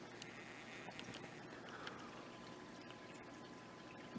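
Water cascades from a waterfall in an aquarium with a 10-gallon turtle filter and cave setup, a soft, steady trickling and splashing that continues without a break at low level.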